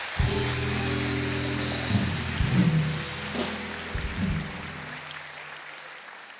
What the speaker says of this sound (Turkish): Alkışlar Can Türk için, teşekkür ederiz.